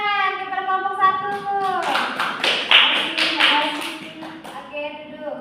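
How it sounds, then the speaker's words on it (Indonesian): A class of fourth-grade children applauding a classmates' group, a burst of rapid, dense hand clapping lasting a few seconds, bracketed by a teacher's and children's voices before and after. "Sekarang berikan tepuk tangan kepada kelompok 1."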